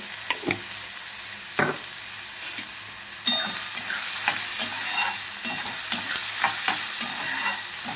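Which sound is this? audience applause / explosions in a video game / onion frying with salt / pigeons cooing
onion frying with salt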